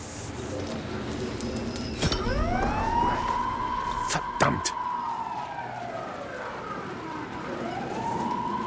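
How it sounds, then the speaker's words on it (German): A siren in the video game Alan Wake 2 wails in rising and falling sweeps, with sharp clanks and bangs in between and a person briefly exclaiming over it. "jetzt kommen die alle hierher wegen der Sirene"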